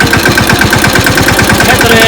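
A tractor engine runs close by on a farm at sowing time, with a fast, rhythmic diesel thumping, loud and steady, while a voice speaks over it.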